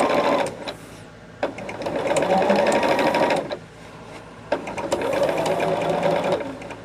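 A sewing machine re-stitching a quilt seam on a small Liberty box project, two close bursts of steady rapid whirring stitching separated by brief pauses.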